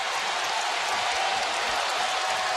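Crowd at a Delaware at Drexel college basketball game, a steady wash of cheering and applause that fills the arena evenly from start to finish, with no single voice standing out.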